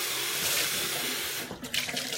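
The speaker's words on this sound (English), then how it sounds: "Rinsed out the remaining seeds out of the middle of my peppers." Steady stream of tap water running into a sink while seeds are rinsed out of the middle of bell peppers, a continuous close splashing rush with a brief shift near the end.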